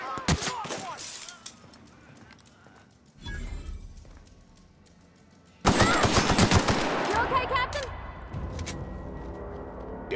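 Gunfire rattles in a PC shooter game, with rapid automatic bursts early, a louder, sustained stretch of fast shots in the second half, and a voice speaking briefly amid the shooting.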